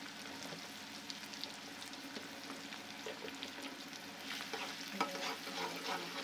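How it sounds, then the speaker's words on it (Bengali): Egg and salt frying in a pan with noodles nearby, a soft steady sizzle with light scraping strokes of stirring throughout, fairly quiet and close, no talk. "এবার দিয়ে নাড়াচাড়া করব ভালোভাবে"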